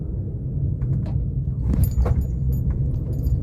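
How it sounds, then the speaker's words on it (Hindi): Motorcycles approach on a single carriageway road at night, their steady engine rumble rising and swelling as they pass close by. "ये तो मोटरसाइकिलें आ रही हैं"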